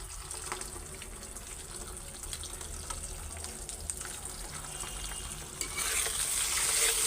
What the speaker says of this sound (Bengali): তো ডিমটা আগে ভাইজা নিব আমি সুন্দর করে, একটু মুচমুচা করে